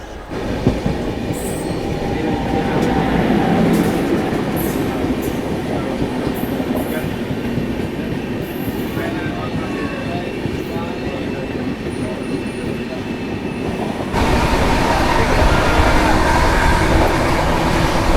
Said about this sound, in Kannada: ಅಲ್ಲೊಂದು ಟ್ರೈನ್ ಹೋಗ್ತಿದೆ ನೋಡಿ